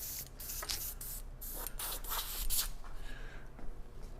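An airbrush sprays white base coat onto fishing lures in a steady, hissing stream, with brief bursts and pauses as the trigger is worked, close up and fairly quiet.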